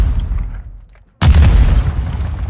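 A grenade blast in the video game Call of Duty: Modern Warfare II, a single sudden loud boom after a brief lull, followed by a rumbling, crackling tail.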